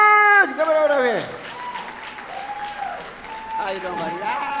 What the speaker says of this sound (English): I want you guys to give him a round of applause.